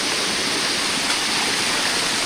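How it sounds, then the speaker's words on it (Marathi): A small waterfall on a fort trek rushes in a dense, continuous roar, close and loud, with no voices. "हा बघा वॉटरफॉल छोटासा"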